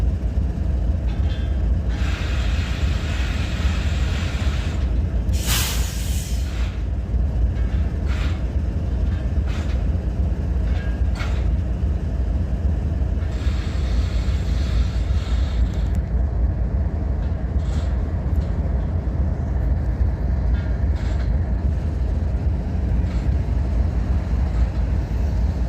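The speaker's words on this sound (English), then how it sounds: "I'd say this is a train out of Alabama, y'all." Freight train from Alabama rolls past at a crossing in Abbeville, carrying steel loads on bulkhead flat cars. There is a loud, continuous rumble with rhythmic clanking and squeals of steel on rail, close and unbroken for the whole stretch, with no talk.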